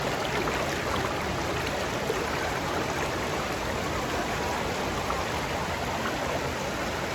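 River water rushes in a steady, loud broadband wash while a motorbike rides through it near Zarwani waterfall, with no voices.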